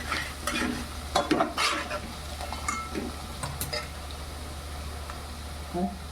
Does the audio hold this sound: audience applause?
no